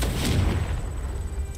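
A Confringo blasting spell explodes in the video game Hogwarts Legacy, a loud booming burst that rolls and fades over about a second.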